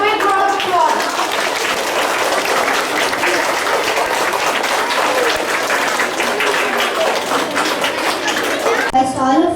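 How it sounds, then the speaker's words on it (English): Dense applause from a school assembly audience honoring a young football player, loud and sustained clapping with crowd chatter mixed in, ending abruptly. "So give him a big round of applause."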